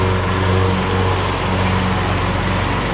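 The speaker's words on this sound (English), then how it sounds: "And now we have the lawnmower next door going, which is even better." A lawn mower running next door, heard as a loud, steady engine drone that holds constant from start to finish with no talking over it.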